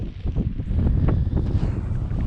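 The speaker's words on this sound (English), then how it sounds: "Whoa, that was a good gust." A strong gust of wind buffets the microphone while a pulling stunt kite is flown through figure eights, a loud, roaring rush that swells and holds.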